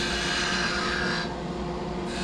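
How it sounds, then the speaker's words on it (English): A skew chisel cuts a V into spinning wood on a lathe while parting off and pointing a top, a steady close rasping shave that thins and softens about halfway through before building again. "Now I'm going to do a V cut to part it off and to establish the point."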